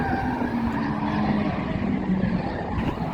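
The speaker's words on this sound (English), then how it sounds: "Here I am with the Grip and Drift Mustang." A Ford Mustang S95 grip-and-drift rental car at a drift event roars as a steady, loud, dense engine and tire noise that fills the clip without pause.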